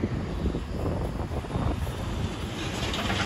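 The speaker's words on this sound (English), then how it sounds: "sorry about the wind. I know it's kicking." Strong gusting wind buffeting a microphone outdoors in a yard, a steady loud rumble with no pauses and no voices over the full length.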